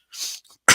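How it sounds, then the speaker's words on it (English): A short breathy cough, then a brief pause and a sharper, louder cough burst close by. "Excuse me, short darn cough."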